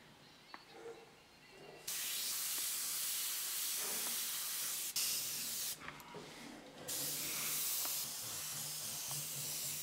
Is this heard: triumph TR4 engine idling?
no